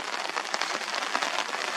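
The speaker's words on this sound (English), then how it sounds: "And it's raining now" Steady rain patters on a hard surface close by, a dense, even hiss of drops with no voices.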